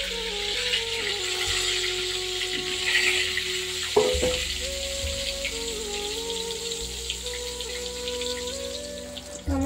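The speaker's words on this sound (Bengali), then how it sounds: "আমার বেগুন ভাজাটা হয়ে গেছে" Brinjal (eggplant) slices fry in a pan, giving a steady close crackling sizzle throughout, with a sharp clink of utensil partway through and a low hum beneath.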